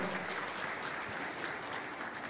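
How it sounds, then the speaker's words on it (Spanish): Audience at a real estate expo in Paraguay applauding after a speaker finishes, a dense even patter of clapping sustained from start to end at moderate distance. "Fuerte el aplauso."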